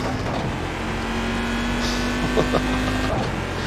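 A GT1 race car engine pulling hard in first gear in the iRacing sim, a loud steady high-revving drone held at a constant pitch before easing off near the end.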